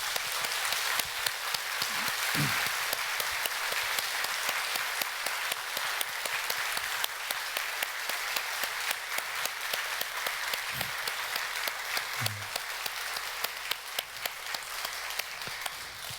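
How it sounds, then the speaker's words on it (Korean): A church congregation at a Sunday service applauds youth actors as they leave after their Bible drama, a steady wash of clapping filling the whole stretch with no talk over it. "퇴장할 때 박수로 격려해 주시겠습니까?"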